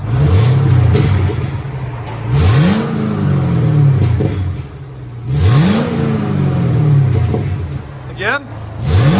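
A 2012 Chevy Camaro SS with a 6.2L V8 and its mufflers cut off revs hard several times, each blip rising to a loud raspy roar and falling back to a rumbling idle, with people talking over it.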